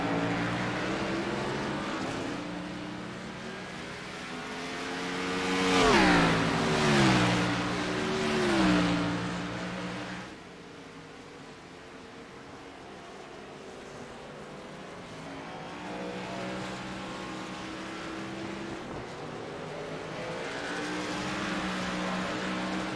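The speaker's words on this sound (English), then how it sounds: "Henrique getting on the throttle, spinning up the tires as he exits the final chicane." A race car accelerates out of the final chicane at Charlotte, tires spinning up as the engine climbs through rising revs with a wavering tone, then settles into a steadier drone at moderate distance.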